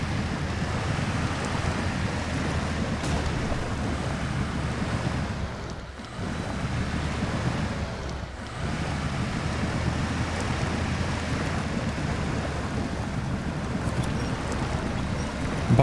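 Off-road truck wading through water and wet mud in Expeditions: A MudRunner Game, a steady broad wash and rush of churning water under low engine rumble, continuous and fairly soft, briefly dipping twice.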